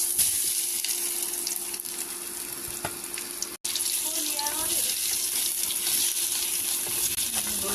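Whole boiled potatoes coated in spices fry in a wok, giving a steady, close hiss of sizzling oil that continues throughout, broken only by a brief dropout midway.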